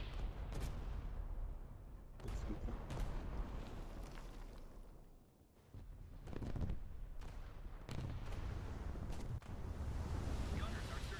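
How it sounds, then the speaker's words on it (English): Bombs dropping and exploding in a battleship video game, a series of heavy booms and rumbling blasts spaced a second or two apart over a continuous rumble, with voice chatter mixed in. "Bombs away."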